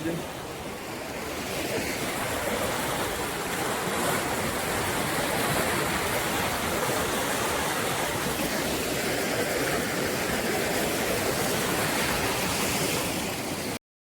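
Flood water rushing past bridges in an Odisha village, a steady broadband roar of flowing water throughout, close and continuous with no breaks.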